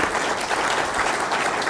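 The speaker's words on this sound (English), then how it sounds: "let's give them another round of applause." An ethics conference audience applauds a panel, dense continuous clapping from a large crowd at an even level throughout, with no speech on top.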